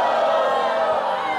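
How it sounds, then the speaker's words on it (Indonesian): A studio audience at a televised dating show cheers loudly in a short, sustained burst of massed voices and whoops. "Sorakin Cindy"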